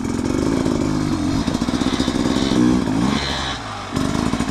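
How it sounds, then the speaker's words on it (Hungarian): A motorcycle engine, running hot at over 30 degrees, revs up and down in uneven bursts at close range, a loud buzzing drone that drops briefly before rising again. "már 30 fölött van a motor"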